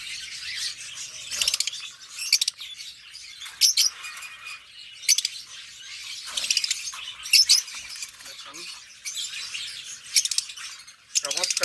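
An opaline Forpus parrotlet pair, the male outside and the female inside a nest box, giving repeated short, high chirps and squeaks in scattered bursts, close by, with some rustling between calls.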